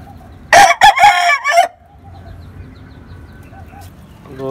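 A rooster crows once, loud and close, a drawn-out call of about a second, followed by quieter background rustle.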